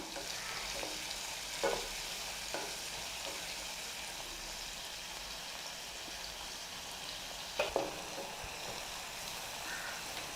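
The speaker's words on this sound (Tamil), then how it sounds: "இந்த வெங்காயம் நல்ல ஒரு ப்ரௌன் கலர் ஆகிறது வரைக்கும் நல்லா வதக்கணும்" Chopped onions sauté in an oil-filled pan for pepper butter chicken, giving a steady, close sizzle with a few soft scrapes of a spoon and no talking.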